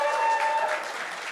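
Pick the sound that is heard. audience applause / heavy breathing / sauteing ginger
audience applause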